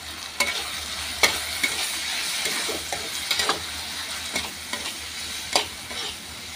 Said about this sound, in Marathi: तर छानपैकी परतून घेऊया.